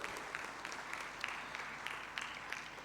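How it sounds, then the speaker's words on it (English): An audience at an oil and gas congress in Tanzania claps steadily, a soft, dense patter of hands heard from a distance, with a few sharper claps standing out. "please give them a big applause"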